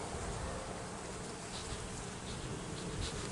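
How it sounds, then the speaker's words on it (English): Honey bees pour out the top of a hive during a March yard inspection, a dense, continuous buzzing swarm close by, steady and unbroken throughout with no voices. "So bees are piling out the top."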